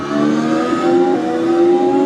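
A race car engine in the iRacing video game holds a high, steady revving whine that rises slightly and sustains loudly for a couple of seconds, with no talking.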